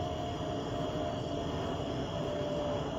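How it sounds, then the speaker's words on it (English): A jet airliner comes in to land at O'Hare Airport, its engines a steady, even roar that fills the whole stretch without letting up, with no voices. "Jet coming into O'Hare Airport,"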